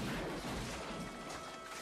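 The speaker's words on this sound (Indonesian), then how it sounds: "Chucky menggelembung dan kepalanya pun pecah." A Chucky doll's air-inflated head bursts in a film, a loud, dense crash of broadband noise that fills the whole moment and stays harsh and sustained rather than fading quickly, with no talk over it.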